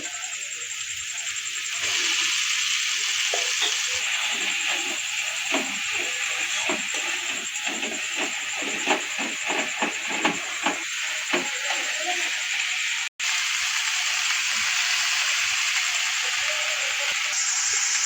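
Wild forest mushrooms from Jharkhand fry in spice masala with a steady, loud sizzling hiss that runs throughout, while a voice speaks faintly partway through and a brief break cuts in near the end.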